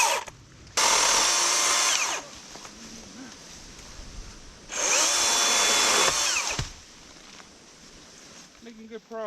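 A DeWalt battery-powered chainsaw cuts through fallen trees on a trail outdoors, two loud, close, whining bursts of a couple of seconds each, separated by quieter pauses.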